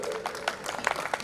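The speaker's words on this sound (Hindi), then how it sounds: "एक बार जोरदार तालियों से स्वागत करें मित्रों" An audience at a Varanasi stage event gives a short burst of applause to welcome a speaker, scattered uneven claps rising and falling over barely a second, with a voice briefly heard.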